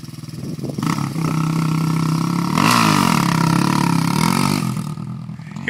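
A BMW motorcycle engine revs hard during wheelies, a loud sustained buzzing drone that climbs and dips in pitch, staying close and steady for several seconds.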